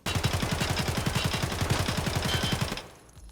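Rapid automatic gunfire from a video game gun, a fast, even burst of shots lasting close to three seconds, loud and close, then cutting off into quiet.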